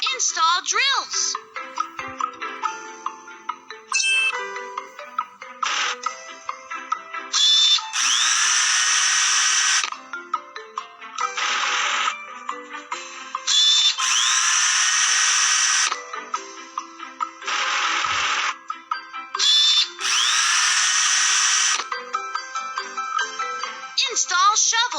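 Toy excavator drill attachment drilling while digging a fish pond, heard as repeated loud, buzzing, whirring bursts of several seconds each, broken up by jingly electronic sounds and a voice talking between them.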